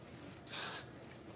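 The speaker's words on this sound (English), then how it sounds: "I'm going to spray the area around her ponytail." A single short burst of hair spray aimed around a client's ponytail, a soft steady hiss lasting about a third of a second before quiet room tone returns.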